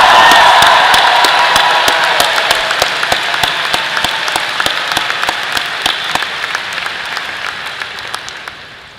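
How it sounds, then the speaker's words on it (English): A large convocation audience in a hall applauds and cheers, dense sustained clapping with occasional whoops that slowly fades over several seconds. "Give yourselves another big round of applause."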